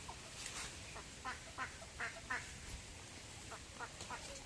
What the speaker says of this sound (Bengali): আমগো হাঁসগুলো কি ডিগিতে নাকি